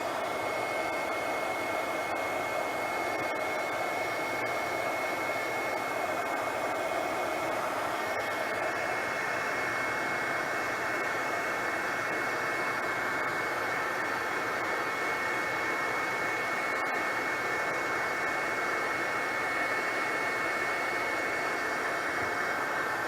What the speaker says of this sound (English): Now I'm going to take my embossing gun and heat this up.